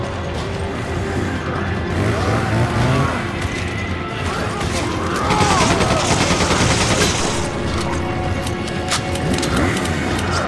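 Dense, continuous gunfire rattles through a firefight with hostiles in Resident Evil 5, with overlapping shots, mechanical clatter and a steady loud din throughout.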